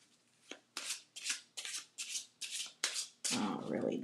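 A new Talisman Oracle card deck being shuffled by hand, giving seven quick papery riffling bursts in steady rhythm, close and crisp, ending in a longer continuous rustle.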